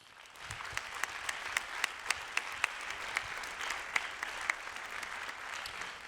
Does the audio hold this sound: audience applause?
yes